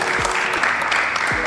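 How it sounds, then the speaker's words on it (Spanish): A short burst of applause from a live audience at a panel discussion, a brief patter of clapping heard close, with a voice faintly underneath. "un aplauso para la para la cazuela de Roque"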